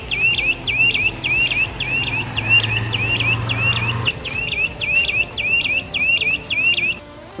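Motorcycle indicator buzzer fitted with new indicators, chirping in a quick, regular electronic beep pattern, bright and close, repeating evenly throughout over a faint background hum.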